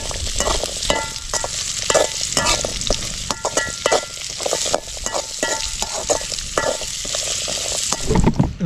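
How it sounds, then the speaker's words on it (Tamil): Kotti kilangu tubers fry in hot oil with a loud, continuous crackling sizzle and occasional stirring scrapes, heard close up and steady throughout, with no talk. "இப்படி பார்த்திங்கன்னா அந்த எண்ணெயில் நல்லா வேக விட்டுருவோம்"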